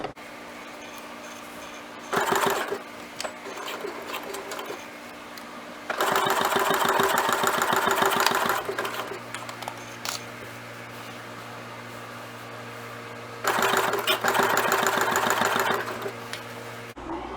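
A sewing machine stitching quilt binding at a quarter-inch seam, running in three steady motor-driven bursts of rapid stitching with pauses between them, close and clear with no talking.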